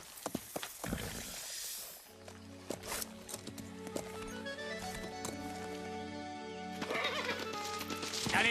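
A cartoon horse whinnies loudly and its hooves clip-clop along in a steady galloping rhythm, with dense orchestral music and effects playing throughout.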